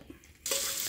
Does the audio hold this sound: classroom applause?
no